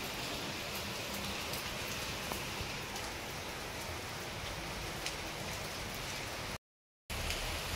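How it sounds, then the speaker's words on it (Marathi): Heavy rain pours outside a house, a dense, steady hiss of drops on surfaces that holds constant and fairly loud, broken only by a brief dropout near the end, with no voices. "आता पुन्हा तो चालू झालाय आणि चांगलाच जोरात पाऊस चालू झालेला आहे"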